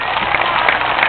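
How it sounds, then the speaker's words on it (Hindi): Brief burst of crowd clapping at a public rally at Jantar Mantar in New Delhi, a dense, even patter of many hands lasting about a second. "जोरदार ताली के साथ स्वागत।"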